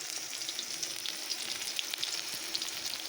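Vegetables tipped into a pan of onions and green chillies frying in oil until reddish, giving a steady close sizzle with small crackles and stirring scrapes throughout, no talking.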